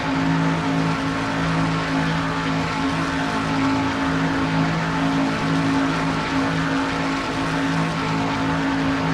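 An IROC race car in a sim race at Talladega drones in a steady, loud onboard engine tone at high RPM, around 6,300, holding an even pitch with no voices.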